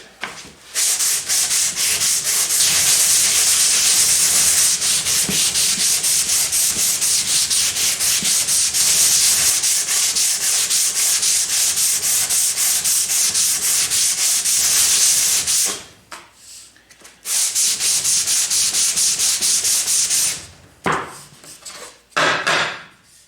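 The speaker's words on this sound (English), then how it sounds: "I'm at the stage where I'm using 220 grit" Steady, continuous rasping of 220 grit sandpaper worked by hand along an electric guitar's wooden fretboard, close and loud, with two brief pauses near the end before the scrubbing resumes.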